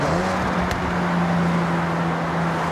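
A generic-sounding turbocharged four-cylinder car in Forza Horizon 6 downshifts, its engine droning loud and steady with a brief sharp blip near the start, playing alone.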